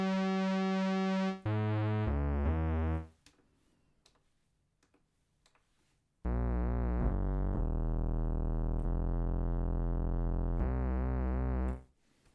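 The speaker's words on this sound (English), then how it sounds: "Sounds pretty pulse width modulation-y to me." Casio VZ-1 synthesizer holding a bright, buzzy pulse width modulation tone: a sustained chord, a short drop, a couple of stepped notes, a quiet gap of about three seconds, then a long loud chord with a pulsing, shifting timbre.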